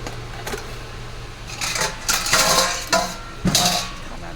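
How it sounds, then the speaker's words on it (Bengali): Maggi noodles being served from a pan onto a metal plate: several clinking, scraping metallic clatters in short bursts over a steady low hum, close by and moderately loud. "মাম্মামকে এই যে থালার মধ্যে ম্যাগিটা দিয়ে দিলাম"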